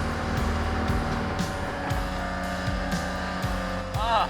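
A sailboat's engine running at sea, a steady low droning throb with a regular pulse under a faint voice near the end.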